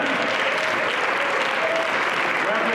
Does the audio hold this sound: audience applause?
yes